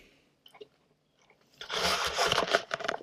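Crunchy Half Pop snack being bitten and chewed on a December hike of the Appalachian Trail, a burst of loud close crackling crunches after a quiet start, no talking.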